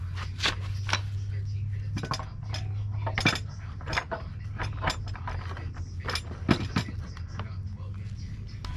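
Metallic clanks, ratcheting clicks and tool clinks as a transmission is fitted onto a Honda B18C1 engine being swapped into an all-wheel-drive CRX, irregular and close over a low hum.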